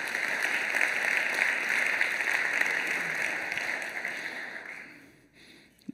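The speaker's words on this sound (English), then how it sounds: "Yeah, you can applaud that." Church congregation applauding during a live sermon, a steady wash of many hands clapping that stays even, then thins and fades out near the end with a last stray clap.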